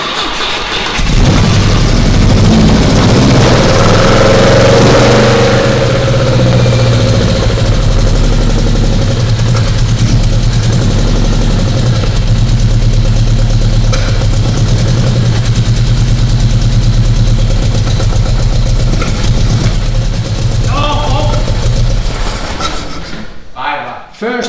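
A car engine fitted with twin Weber carburetors and a blocked intake manifold cranks and runs through a test start, a loud steady rumble holding close for about twenty seconds before cutting off.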